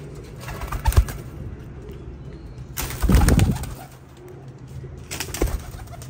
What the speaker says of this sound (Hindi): इसलिए हम इनको कहते हैं जी इंग्लिश कबूतर